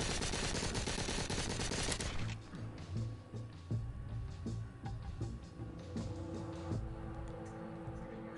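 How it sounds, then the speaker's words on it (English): Gunfire in the Arizona Sunshine video game: a rapid, dense burst of shots at first, followed by scattered single cracks and clattering impacts over a lingering background hum. "Stop shooting! You're wasting your ammo."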